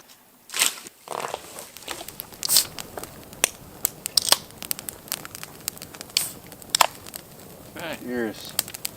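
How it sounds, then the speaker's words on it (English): A campfire in the wilderness crackles with irregular sharp pops and snaps at close range, some louder than others, over a low background. "Warming up by the fire here."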